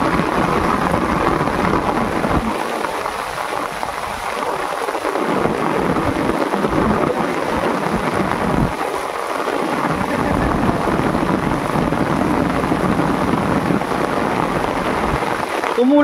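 Heavy rain pours steadily over a river in the Sundarbans during cast-net fishing, a dense continuous hiss with a few low rumbles of thunder and faint voices underneath.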